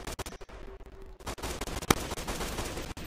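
Gunfire from a zombie mode video game rattles in rapid bursts, with a sharp isolated crack and then dense, continuous shooting that stays loud and close to the end.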